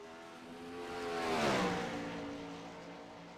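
A 410 sprint car laps the Knoxville dirt track, its engine note rising to a loud pass around the midpoint and then fading away down the backstretch toward turns three and four.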